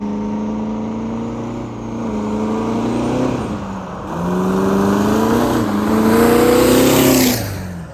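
A 1000 HP Duramax diesel truck accelerates hard with its wheels spinning, its loud engine roar rising in pitch through several gear shifts, with a hiss of tire spin building toward the end.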